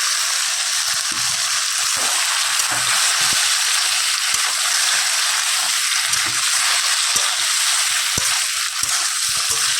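Potatoes and vegetables fry in hot oil with a continuous, even sizzling hiss and scattered soft ticks of spatter, close by with no voices.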